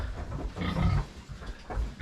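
Piglets on a farm grunt in short, close bursts, the rough snorts rising and falling over about two seconds with no voices.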